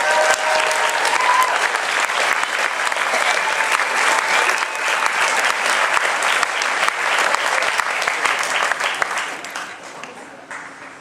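A graduation ceremony audience applauds with a dense, sustained wash of clapping from a large crowd. It holds steady for about ten seconds, then fades off at the end.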